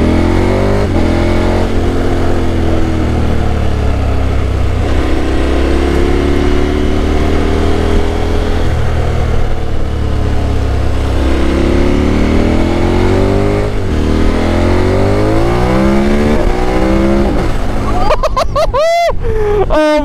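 A 2021 KTM Super Adventure S motorcycle fitted with an Arrow Sonora exhaust revs loudly and close by. Its engine note climbs and falls repeatedly, with a run of sharper, higher blips near the end.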